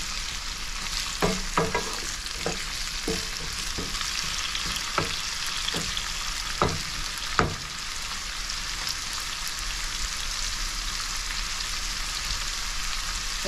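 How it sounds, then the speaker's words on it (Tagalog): Onion and garlic sautéing in a pan for escabeche tilapia, with a steady broadband sizzle broken by a few sharp scraping clicks of stirring in the first eight seconds, then continuous frying alone. "bawang, haluin ng konti hanggang sa mag-translucent."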